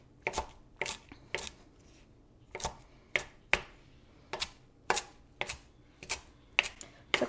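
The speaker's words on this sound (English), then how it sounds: "So kind of rough chop it." A knife rough-chops kale on a cutting board, about fifteen sharp, close thuds landing in uneven clusters with short quiet gaps between them and no talk.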